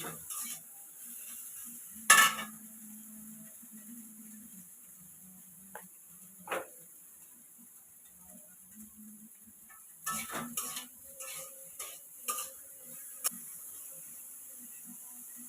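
Soybean chunks frying in a pan with oil, giving a low steady sizzle broken by a few sharp metallic clinks and scrapes of stirring, moderately close with no talk.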